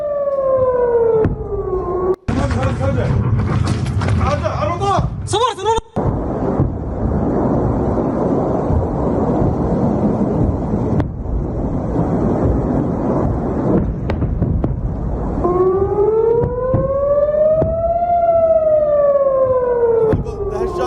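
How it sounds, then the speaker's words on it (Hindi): Air raid siren wailing over a residential area in Israel during a Hezbollah rocket attack, its rising and falling tone loud and sustained at the start and end, with a rumbling, noisy stretch and sharp bangs in between. "ये आवाज हिजबुल्लाह के उस अटैक की है, जिस अटैक ने इजराइल के इस रिहायशी इलाके को नुकसान पहुंचाया है"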